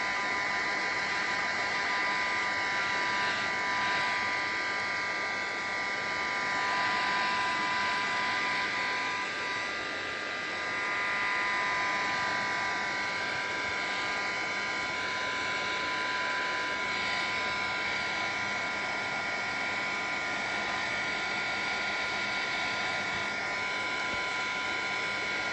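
A heat gun runs steadily throughout, a constant close whirring hiss of the fan with a faint electrical hum, with no pauses or changes in level.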